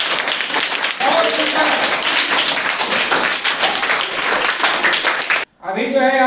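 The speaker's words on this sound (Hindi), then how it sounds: "आरती और खुशी के लिए जोरदार ताली" Crowd applause for young schoolgirls who have just recited a poem about the tricolour flag at a flag-hoisting event, dense continuous clapping for about five seconds, breaking off briefly before a burst of other sound.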